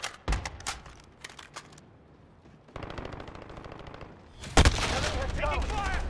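Gunfire in a Call of Duty: Modern Warfare Domination match on the Cheshire Park map, with rapid bursts of automatic fire, sharp single shots and a loud blast near the end, joined by game voice callouts.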